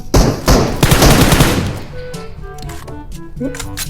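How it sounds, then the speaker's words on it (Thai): Rapid bursts of gunfire in PUBG Mobile crackle loudly, then fade into scattered distant shots and clanks. "เสียงปืนอยู่ฝั่งนู้น"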